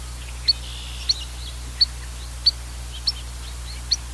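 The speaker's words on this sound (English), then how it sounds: "There's a red-winged blackbird." Short, high red-winged blackbird chirps repeat at a steady pace about every half second over a constant low hum, fairly close and clear.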